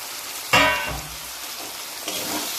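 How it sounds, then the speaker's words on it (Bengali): Fried potatoes and taro tipped into hot sizzling masala oil, a sudden loud splash and burst of frying that settles into a steady crackling sizzle, close and alone with no talk. "এবার যে এখানে আমি আলু আলু আর কচুটা ভেজে রেখেছিলাম মশলার সঙ্গে ঢেলে দেবো"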